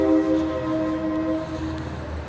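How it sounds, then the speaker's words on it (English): A train passes near a railway museum, heard as a steady sustained tone with layered harmonic whistle or horn pitches over low rumble, moderately loud and continuous. "I think I hear a train."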